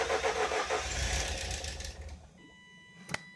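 A Ford Escort fitted with a refurbished K-Jetronic fuel injection system cranks over and tries to fire. A rapid, rhythmic churning runs close and fairly loud for about two seconds, then fades away, and a single sharp click follows.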